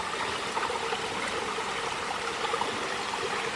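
A mountain river flowing near a waterfall under treetops, a steady broadband rush of water, close and constant, with no voices.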